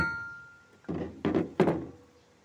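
Three dull, heavy knocks thud from a Perodua Kelisa engine as its crankshaft is turned slowly by hand, each clunk separated by a short pause.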